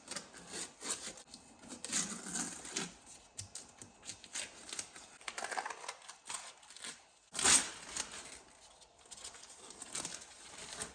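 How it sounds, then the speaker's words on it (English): Adhesive tape peeled off a car wheel's half-barrel, a scratchy ripping texture in close bursts with a louder sharp tear near the end, no talking. "I'm gonna take the tape off"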